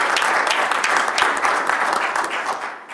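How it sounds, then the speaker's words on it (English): Audience applause at a Rochester Board of Education business meeting, a steady roomful of clapping held at an even level for the whole stretch with no voices over it. "But let's again give her a round of applause."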